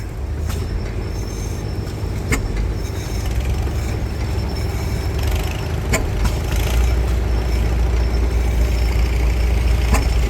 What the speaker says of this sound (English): It's a 1919 10-horse engine that came from a gold mine.